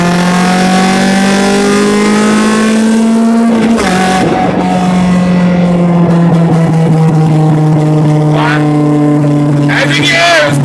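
An old vehicle is pulled hard along a highway at about 60 mph. The loud, steady engine drone drops in pitch partway through as the gear changes down and then holds strong, with brief talking near the end.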